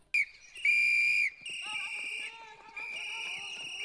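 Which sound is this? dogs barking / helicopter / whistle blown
whistle blown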